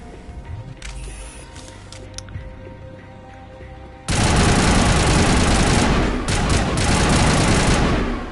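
Gunfire erupts in the video game Mass Effect 1 Legendary Edition on Feros, with a dense, loud stream of automatic shots and impacts after a quieter stretch of background game noise, no talk over it.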